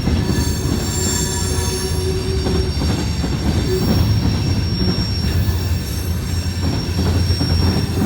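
A long CSX freight train with auto rack cars rumbles past steadily and close, its wheels clattering and squealing continuously with no other sounds.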